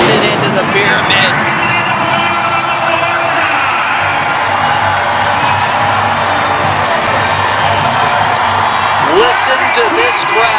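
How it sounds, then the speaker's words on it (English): A packed grandstand at a Pocatello, Idaho monster truck show roars and cheers in a steady, dense wash of crowd noise, while an announcer talks over it. "Listen to this crowd."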